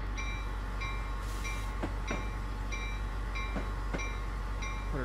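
An Amtrak Vermonter in Train Simulator 2020 begins to creep forward, with a steady low engine rumble, a sustained tonal whine and soft, regularly spaced rail clicks, fairly quiet and without talk.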